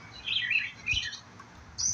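Several birds chirp and tweet outdoors on a quiet morning, bright high twittering phrases coming in bursts at moderate distance over a low background hum.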